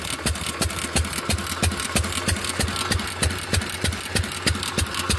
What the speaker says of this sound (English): So hear that click? That click is called impulsing.